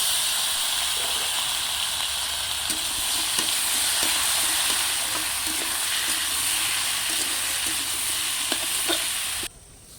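Taro stolons sizzle in a pan with onion and chili, a dense, steady hiss close by, broken by soft clicks of stirring. The sizzle cuts off sharply near the end.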